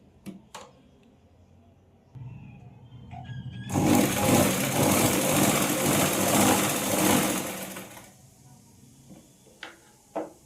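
An electric sewing machine stitches fabric for a traditional Gudhi cloth, a loud rapid continuous whirr lasting about four seconds, framed by quiet clicks and handling of the cloth before and after.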